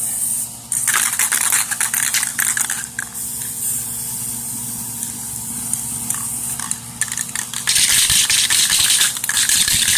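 An aerosol spray paint can laying down a light coat, a loud steady hiss that runs almost continuously with brief pauses and small rattles between bursts.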